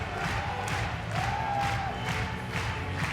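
Crowd cheering at Crufts 2016 as agility dogs and handlers take a lap of honour: a large indoor audience cheers and applauds steadily with whoops, under faint background talk.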